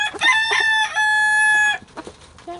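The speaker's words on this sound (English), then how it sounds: "my little chickens really like it" Backyard chickens cluck and a rooster crows loudly nearby, the crow rising and holding before breaking off into scattered clucks.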